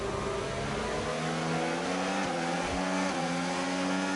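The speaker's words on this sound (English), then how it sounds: "just sounds like a normal generic F1 car" Onboard engine of an F1 car in a racing video game, a steady high-pitched whine held at constant revs with faint pitch wobbles, fairly quiet and continuous throughout.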